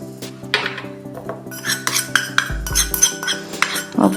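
A small spoon clinks against glass and metal while nail polish is spooned into a bottle, light scattered taps and scrapes close by, with a low steady hum underneath and no talking.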